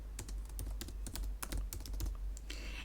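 Quick run of keystrokes on a computer keyboard, close and fairly quiet, with irregular clicks in a steady burst and no talking.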